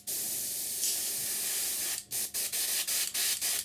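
An airbrush is test-fired with air alone at about 25 psi: a steady close hiss runs for two seconds, then comes as a series of short regular bursts.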